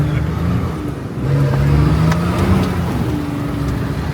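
An off-road vehicle's engine revs loudly and close in muddy terrain, with rising and falling engine pitch over a rough rumbling background and no speech.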